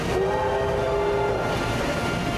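A roughly seventy-year-old steam train in Melbourne rumbles past with a steady, dense roar, and a brief high whistle-like tone rises over the noise near the start.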